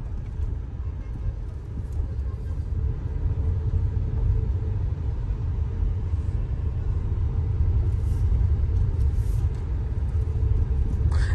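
A Tata Nexon driving in second gear, its engine and road noise forming a steady, close low rumble that holds evenly for about eleven seconds.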